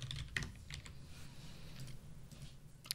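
Quiet, scattered keystrokes on a computer keyboard while editing React code, with a few sharper clicks standing out over a low steady hum and no talking.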